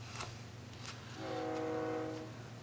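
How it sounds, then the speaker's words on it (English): A train sounds its horn as it passes, a sustained multi-tone blast of about a second coming in over rumbling rail noise in the background, with no talk. "Damn train."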